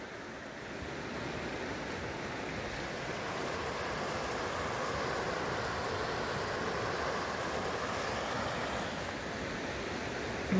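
Floodwater from a swollen creek in Dawson, Alabama rushes steadily along, a broad continuous wash of churning water heard up close without pause, with no voices over it.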